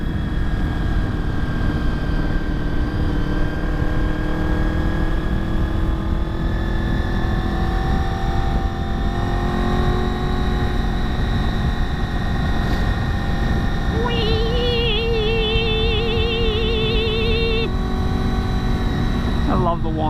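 A Honda VFR 800 motorcycle engine whines and drones steadily while riding, loud and constant with wind roar, a rising tonal note joining midway.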